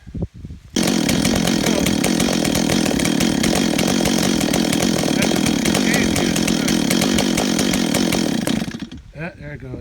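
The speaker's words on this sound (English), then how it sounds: "Come on, chainsaw." A chainsaw with a fault that makes it die after running a short while is started and then runs loud and continuously with a rough, rattling idle for about eight seconds before cutting out, outdoors at a pasture.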